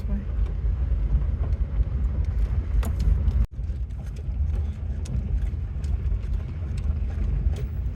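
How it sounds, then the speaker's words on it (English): A car creeps slowly along a washed-out dirt road, giving a steady low rumble of engine and tires with small knocks and rattles from the cabin throughout. "We're slowly driving through this part of the dirt road where there's a wash, but it seems to be fairly firm."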